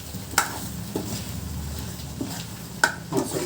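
Drumstick pods are stirred into masala in a pan, with a spoon's metallic clinks against the pan twice and soft scraping over a low steady sizzle.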